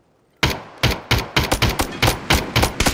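Rapid gunfire in the video game PUBG, about ten loud sharp shots in a quick burst after a short silence, with no talk over it.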